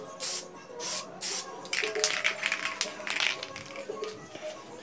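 Several short bursts of matte black spray paint hiss from an aerosol can onto a tricycle fishing bike, quiet and close, the later bursts quicker and more broken.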